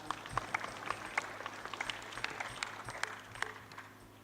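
Audience applause at a school anniversary and year-end celebration after a recitation, a light, scattered patter of clapping that rises briefly and tapers off over a few seconds, fairly faint and distant.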